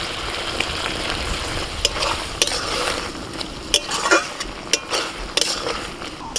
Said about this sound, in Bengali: সর্ষে আর পোস্তটা দিয়ে একটুখানি নাড়াচাড়া করে নিয়েছি এক মিনিট মতো